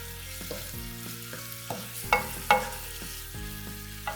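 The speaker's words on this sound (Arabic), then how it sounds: "بعد كده هنزل بالزعتر الناشف، هاخده تقليبه برضو" Scallops and shrimp fry in a pan as dried thyme is stirred in: a steady sizzle with several sharp scraping stirs spaced roughly half a second to a second apart, close and clear.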